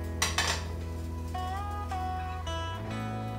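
Olive oil is swirled around the bottom of a pan, with metallic scraping and clinking of cookware, a couple of sharp knocks at the start, then ringing tones over a steady hum.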